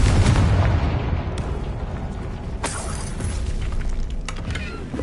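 Confringo explosive spell in the Hogwarts Legacy video game, a booming burst of impact at the start that rolls into a rumbling, crackling tail, with further sharp hits and mechanical game effects following.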